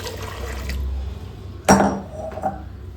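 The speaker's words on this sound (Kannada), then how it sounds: "ಗ್ರೇಪ್ ಜ್ಯೂಸ್ ಹಾಕ್ಕೊಳ್ಳೋಣ ಮೊದಲಿಗೆ" Grape juice poured into a pan while making grape halwa: a sudden splashing clatter with a brief liquid rush, then a smaller knock, over steady low kitchen hum with no talking.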